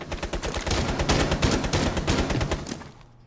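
Rapid automatic gunfire in the video game Rainbow Six Siege, a loud, dense burst of repeated shots lasting about three seconds before trailing off.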